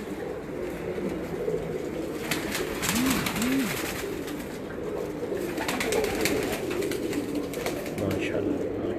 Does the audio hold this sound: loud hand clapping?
no